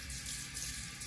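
Water runs from a tap into a sink during a night-time facial routine, a continuous splashing flow at close range with no talk.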